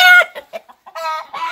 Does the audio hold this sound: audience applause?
no